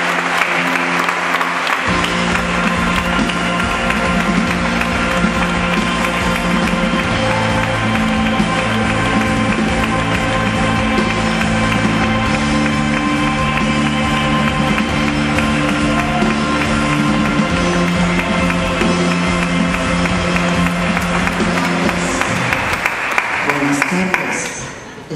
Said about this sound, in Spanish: recibamos con un fuerte aplauso a Agnès Varda